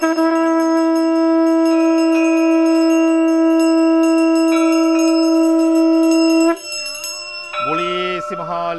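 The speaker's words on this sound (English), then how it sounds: "then you hand it to the other devotee, ring the bells" Hand bells are rung during a Hindu Divali puja in Trinidad, bright metallic ringing with repeated strikes sustaining for several seconds, then fading as a voice begins chanting near the end.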